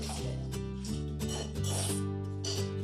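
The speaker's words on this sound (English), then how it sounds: "Just stir it continually." A spoon rasps and scrapes steadily against the bottom of a pot of gumbo in a home kitchen, close and continuous strokes with a low hum underneath and no talking.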